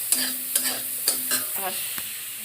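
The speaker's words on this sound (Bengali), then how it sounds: "কুশি ভাজা হয়ে গেছে তাই সয়াবিনগুলো ভেজে নেব" Soybean chunks frying in oil in a pan, heard as a steady sizzle with several sharp, regular clinks of a utensil stirring against the pan, close and alone.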